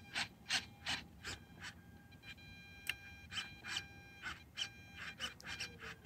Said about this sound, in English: they're loud, the servos